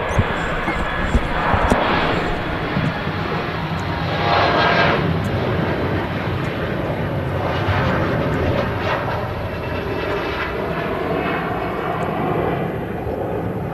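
A KLM airliner passes at Manchester Airport, its sustained jet engine roar rising and falling over several seconds as it goes by, with people chatting in the background.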